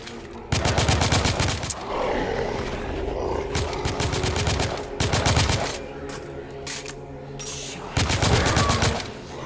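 Bursts of automatic gunfire in The Order: 1886, several loud sustained volleys separated by brief pauses, up close and dominating, with faint roaring and game noise between the bursts.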